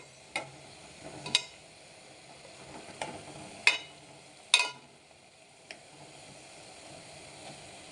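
Curry leaf vadas frying in oil over a medium flame, a low sizzle punctuated by several sharp clicks and taps at irregular intervals, fairly quiet, no talking.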